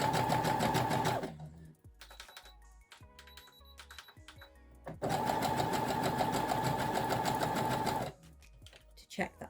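A sewing machine runs two steady bursts while stitching test lines of varying width and length, with quiet handling clicks in the pause between them; no talking.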